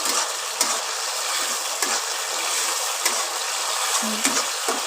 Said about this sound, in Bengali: আর একটু নাড়াচাড়া করে কষিয়ে নিই